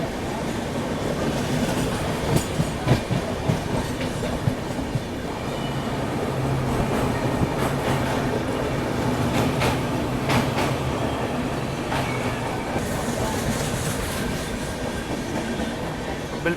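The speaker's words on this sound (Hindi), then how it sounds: "बिल्कुल, ये पुरुषोत्तम एक्सप्रेस ही है" The Purushottam Express on the Puri–New Delhi line runs along the rails nearby, a loud continuous rumble with rhythmic clickety-clack of wheels over joints and occasional higher rattles, sustained throughout.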